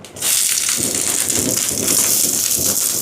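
Urad dal, chana dal and onion fry in hot oil for Sri Lankan uthappam, a loud, dense, crackling sizzle that starts abruptly and stays steady and close throughout.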